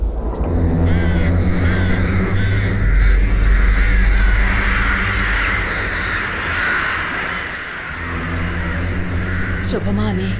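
Crows caw loudly in a forest in the Virupaksha film's opening scene, mixed under dramatic music and voices.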